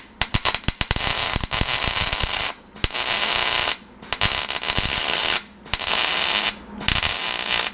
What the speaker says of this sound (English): stitch welding is a good technique there to ensure that when the puddle builds up on the heavier gauge, you can kind of push the puddle